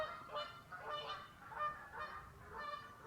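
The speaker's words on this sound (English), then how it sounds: "No geese over there are giving it some. Canadian geese again, them ones I know." Several Canada geese honk repeatedly in loose, overlapping bursts, moderately close, beside a river, with no talking.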